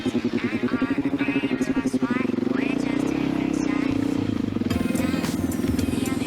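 A dirt motorcycle fitted with Tusk CHUB handlebars rides a single track trail, its engine pulsing in rapid rhythmic bursts before settling into a sustained buzzing drone, close and loud, with brief clatter from the rough ground.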